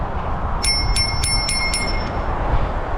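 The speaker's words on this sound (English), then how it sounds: "got an health and safety bell." A safety bell on an Eleglide M2 electric mountain bike rings in about five quick, bright dings close by, over steady low background rumble.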